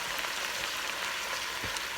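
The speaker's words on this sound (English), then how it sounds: "I'm going to take a little bit of beef broth. Use that now" Beef broth poured into a hot pot roast pan to deglaze it, producing a dense, even hiss of sizzling liquid that holds steady throughout, with no talking.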